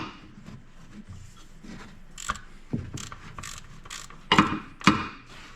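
A hex 10 socket tightens the transmission fill plug on a 2026 Ford Maverick Hybrid, giving sparse ratcheting clicks and metallic rubbing that stay quiet at first and turn into a few sharper, louder clicks near the end.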